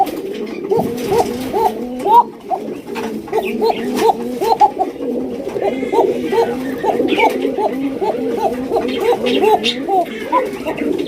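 A pair of red Lahori pigeons coo repeatedly in a steady, rhythmic series of soft, throaty calls, heard close up while someone talks over them.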